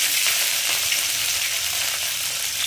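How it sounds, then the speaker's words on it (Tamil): Curry leaves and green chillies sautéing in oil for vendakkai kulambu, a steady hissing sizzle with faint stirring, close and continuous. "2 பச்சை மிளகாய் போட்டு நல்லா வதக்குங்க."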